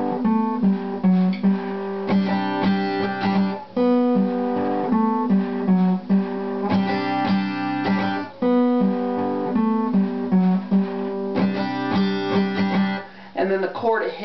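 Acoustic guitar strumming the chords of a song, bright rhythmic chord strokes in repeating groups with short gaps between phrases, played alone and close.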